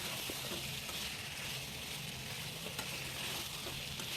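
Potato pieces for crispy aloo 65 stir-fried over full flame, a dense continuous sizzle with constant stirring, steady and close throughout, no talking.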